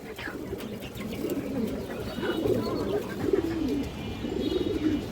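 Pigeons coo in low, rolling phrases, repeating steadily over a soft background murmur, fairly close.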